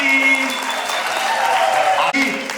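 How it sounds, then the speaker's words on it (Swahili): A school audience applauds at a stakeholder engagement event, giving dense continuous clapping from a crowd with high, sustained ululation cries over it. "Makofi na vigelegele."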